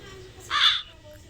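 A single loud crow caw from the Granny horror video game, sharp and close, sounding once over a low background hum.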